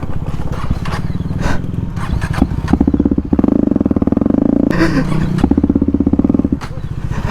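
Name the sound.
KTM Duke 250 motorcycle riding with loud underseat Akrapovic exhaust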